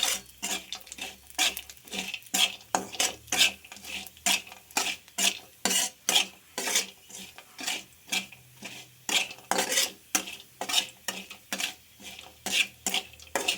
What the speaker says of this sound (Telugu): ఈ బాదం గింజలని ఇందులో డీప్ ఫ్రై చేసుకోవాలి.